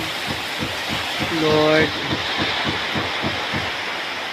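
Heavy rain pours as a steady, loud hiss, with a regular low thumping pulsing underneath and a voice briefly speaking over it.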